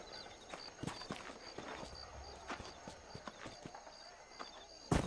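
Horse hooves clip-clop at a steady walking pace in Red Dead Redemption, a rhythmic series of close knocks over quiet ambient background.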